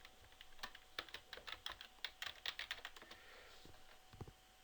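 A password is typed on a computer keyboard in an ERP software setting: a quick run of crisp, close key taps in an irregular rhythm, with no talking.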